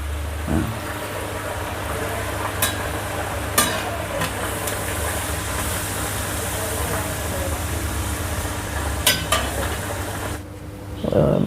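Wheat-flour samosas frying in a kadhai of hot oil make a steady, dense sizzle and bubbling throughout, with occasional clinks of a utensil and a low background hum.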